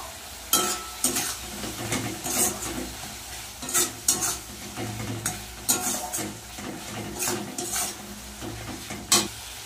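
Masala paste with salt and turmeric being stirred and fried in a pan for dhokar dalna, giving a steady sizzle broken by repeated scraping spatula strokes and light metal clinks, close and without talk.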